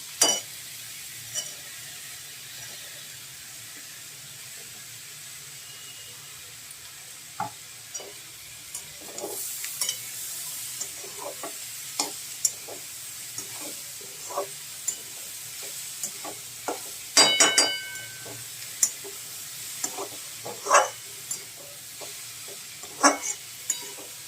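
Mixed vegetables with corn and capsicum stir-fry in butter in a pan, a steady soft sizzle running throughout while a spatula scrapes and taps the pan in irregular clicks, close and alone.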